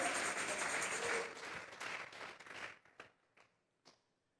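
A church congregation gives a round of applause as an offering, the dense clapping fading to a few scattered claps.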